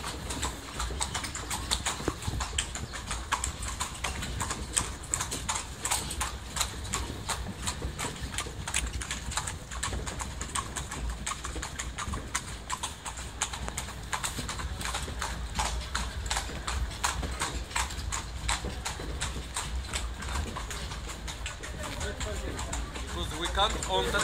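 A horse clip-clops steadily through the streets of Marrakech while pulling a cart, the hooves a continuous rhythmic patter under road and engine noise, with people talking over it throughout.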